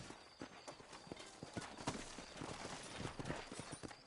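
Sturdy horses' hooves clip-clopping in a steady, quick rhythm of close, distinct knocks, fairly quiet and without talk.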